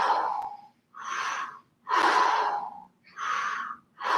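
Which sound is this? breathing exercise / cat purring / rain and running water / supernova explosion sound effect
breathing exercise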